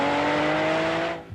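A Lamborghini 12-cylinder car engine roars with a steady, dense, high-pitched howl for about a second. It is loud and close, then fades quickly.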